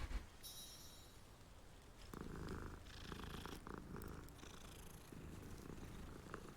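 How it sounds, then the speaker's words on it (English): A cat in Hogwarts Legacy purrs faintly and steadily, a soft continuous low rumble with quiet chirpy tones above it, no talk over it. "this fucking cat"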